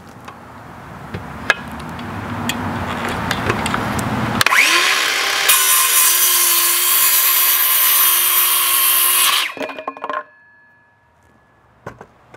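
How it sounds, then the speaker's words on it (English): A power saw cuts through an 8-foot wooden 2x4 board, spinning up loud and steady for about five seconds before winding down, with lighter shop noises before and after. "I'm gonna cut an 8-footer here"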